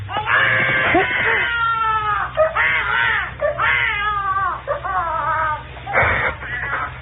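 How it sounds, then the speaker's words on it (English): In an old radio drama, a child yells and screams in a series of loud, wailing, strained bursts that rise and fall, carried on thin, narrow-band broadcast audio. "When a kid started to yell."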